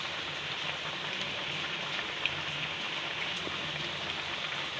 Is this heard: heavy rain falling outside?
yes